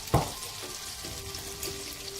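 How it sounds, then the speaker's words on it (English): Butter hitting hot vegetable oil in a pan crackles with a sharp initial pop, then settles into a soft, steady sizzle that stays fairly faint. "I'm gonna go in with some butter. Ooh, I love to hear that noise when things start to cook."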